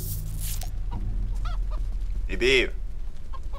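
A chicken in the video game Mini Ninjas gives a brief, loud squawking burst partway through, over steady game background noise, with a short bit of speech early on.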